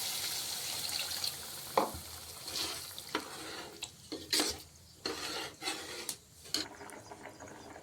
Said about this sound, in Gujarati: હવે આપણે પાણી નાખી દેવી